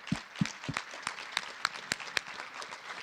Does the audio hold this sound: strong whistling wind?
no